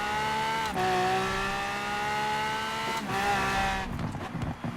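Lamborghini Aventador engine in Forza Horizon 4, loud and steady, howling at high revs, then dropping in pitch with sharp blips at two quick downshifts, with the note roughening toward the end.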